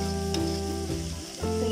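Ham added to a hot pan for Chinese fried rice sizzles with a sustained close hiss and crackle, a steady hum underneath and a brief stirring scrape partway through.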